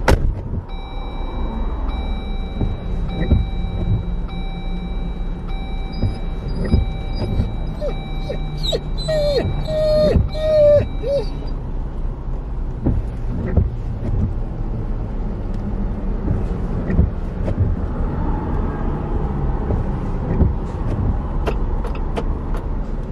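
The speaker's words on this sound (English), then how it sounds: "I'm gonna keep the car running for you, obviously" A parked car left running with its engine idling, a steady low hum throughout, with a dog's whimpers and yips heard over it in the first half.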